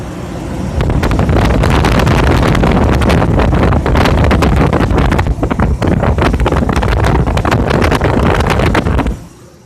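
Engine of a Ford F150 pickup running right after starting, with the AC compressor bypassed on the belt: a loud, close, continuous roar buffeted by heavy wind-like rumble, steady for several seconds before cutting off near the end.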